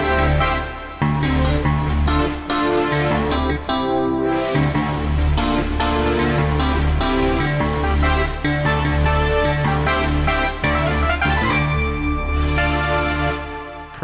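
Layered MainStage keyboard patch with the bottom-tier sounds all playing together: a thick, loud, continuous wall of synth and keys with punchy repeated hits and sweeping textures throughout.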